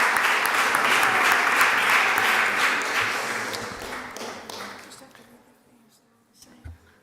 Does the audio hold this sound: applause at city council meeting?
yes